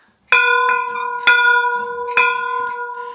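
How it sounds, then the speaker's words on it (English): A handheld bell rings clearly three times at a slow, even rhythm, each strike loud and near and fading out slowly into a sustained metallic tone, with no voices. "That's my bell."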